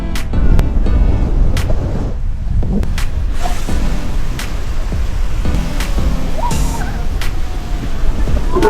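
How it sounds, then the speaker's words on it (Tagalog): High ocean waves surge and crash along a Taiwan coast, loud rolling surf mixed with gusty wind buffeting the microphone and a few sharp knocks. "Taas ng alon."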